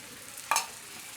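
Kashmiri chili mixed with water is added to a chicken curry frying in a pan, giving one brief, sharp sizzle and a stirring scrape over a low, quiet background.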